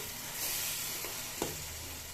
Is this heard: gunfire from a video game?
no